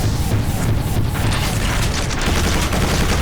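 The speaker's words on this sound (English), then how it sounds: "In between reloads, I can kind of just fire missiles." Rocket launcher fire in the first-person shooter Quake 4, with loud booming blasts and mechanical clanks over a dense, continuous wall of game noise, no gaps between shots.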